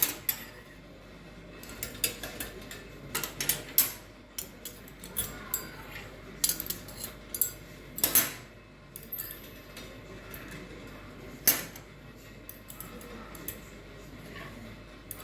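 Metal spoons and forks being arranged in a spoon holder make scattered light clinks and clicks, some sharper than others, close by over a quiet room.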